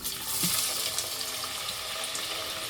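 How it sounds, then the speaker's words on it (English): Onions dropped into hot palm and vegetable oil: a loud, close, continuous hiss and crackle of frying that swells at once and holds steady to the end. "my vegetable oil is giving me the sign that she's ready to receive these onions, the onions is going in."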